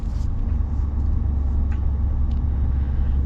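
A 2024 Ford Super Duty single cab truck's engine roars loud and close, a steady deep rumble holding high throughout without a pause.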